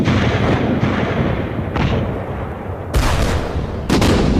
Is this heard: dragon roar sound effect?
no